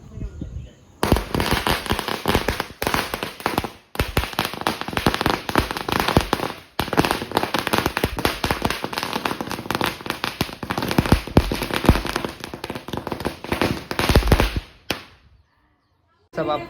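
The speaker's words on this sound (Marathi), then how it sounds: "मामा फटाके लावत आहे" A long rapid string of firecrackers bursts during a Ganpati immersion procession, loud dense crackling for about fourteen seconds with a few brief gaps, then stopping abruptly.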